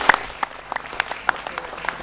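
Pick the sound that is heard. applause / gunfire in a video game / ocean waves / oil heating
applause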